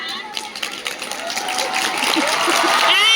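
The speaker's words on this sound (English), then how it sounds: "This round of applause." Audience applause at a school prize distribution ceremony marking National Science Day and Swachhata Pakhwada, building from scattered claps into steadier, louder clapping over about three seconds, with voices talking through it.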